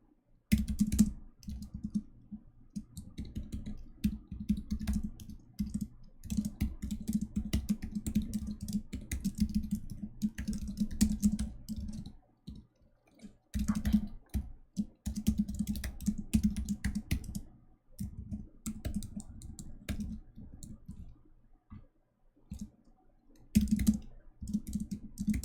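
Rapid bursts of typing on a computer keyboard during a programming contest, clicky keystrokes coming in uneven runs with brief pauses between them, close and fairly loud, with no talking.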